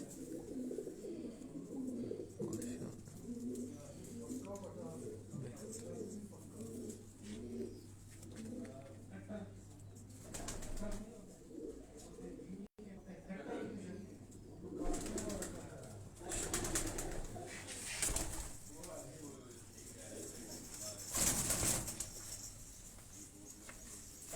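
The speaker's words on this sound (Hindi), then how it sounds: "ये हमारे लोकल यानी कोयटा के कबूतर हैं" Local Quetta pigeons cooing in a loft, soft repeated coos under an ongoing background murmur, with a few brief louder knocks and flutters near the end.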